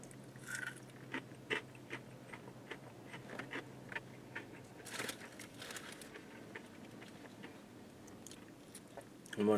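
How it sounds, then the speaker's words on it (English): Popeyes buttermilk biscuit butterfly shrimp being chewed up close, with soft crunchy bites and mouth sounds spread across the clip and faint background noise. "So let me go ahead and try this piece of shrimp."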